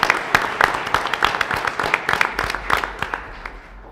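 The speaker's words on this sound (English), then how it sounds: "Let's give our students a round of applause" A school board meeting audience gives a modest round of applause for students, a thin, uneven patter of hand claps that gradually fades out.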